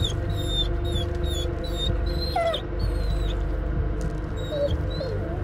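A dog whimpers repeatedly in the horror video game Blair Witch, a series of thin high whines and yelps over a constant low rumbling game ambience.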